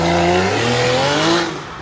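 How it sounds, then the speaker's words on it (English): A supercar engine revs hard at a car show, a loud, close roar whose pitch climbs steadily before dropping away, with a touch of tire noise and no talking. "although his engine is screaming otherwise"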